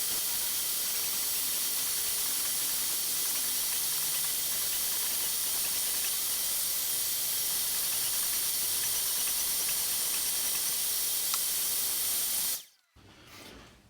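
A shop vac serving as a downdraft dust extractor for a radial arm saw: a loud, steady airy hiss runs unbroken for about twelve seconds, then cuts off sharply, leaving faint room noise.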